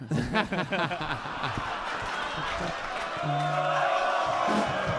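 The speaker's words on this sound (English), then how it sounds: "The chants have begun." A live comedy club crowd in Sydney chants together, a dense mass of voices rising and holding steady with whoops mixed in, loud and close and filling the room.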